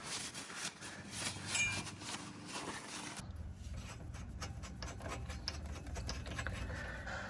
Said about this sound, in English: I like seeing all that extra rust coming off from rubbing it